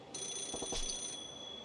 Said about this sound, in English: Is that a phone ringing? It's like it's that payphone.